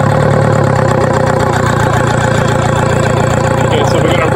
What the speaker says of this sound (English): I'm going to now fire up the engine.